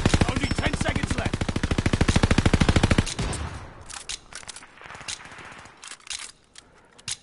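Rapid automatic gunfire in a Call of Duty match, a loud steady burst of evenly spaced shots for about three seconds, then scattered quieter shots and game noise trailing off.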